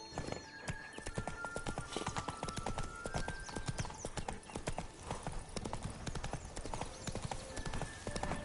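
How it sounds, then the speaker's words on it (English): In The Witcher 3, a horse gallops with a fast, steady clip-clop of hooves that runs continuously at moderate volume, with game ambience beneath and no voices. "Run, Roach."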